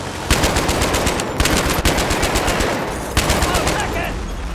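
Loud, rapid machine gun fire from the video game Battlefield 3 rattles in long sustained bursts with brief pauses between them, close and dominant throughout.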